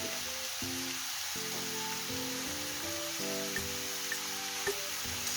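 Butter sizzles in a pan with vegetables for party fried rice, a steady, fairly quiet hiss with occasional small pops and no talking.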